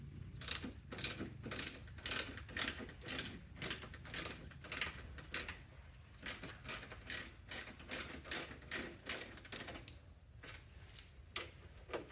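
A ratchet wrench clicks in quick repeated strokes while removing 10 millimeter bolts from the coolant reservoir during a 2001 Subaru Forester radiator replacement, close and rhythmic with short pauses.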